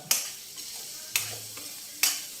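Ginger garlic paste frying in a pan for a mutton bone broth, a soft sizzle under three crisp, evenly spaced scrapes of a spoon across the pan, with no voices.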